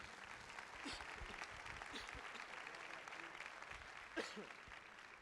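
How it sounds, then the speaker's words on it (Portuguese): A church congregation applauding during a sermon service, faint steady clapping heard from a distance throughout, with a few voices rising over it. "Vamos aplaudir ao Senhor, meus amados"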